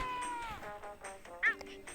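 A cat meows in a video game, one short, bright, rising call midway, set against quiet game ambience and faint voice-like tones.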